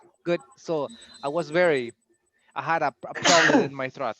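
A single sharp sneeze bursts out near the end of an online English class, set among a student's steady talk about a sore throat and flu.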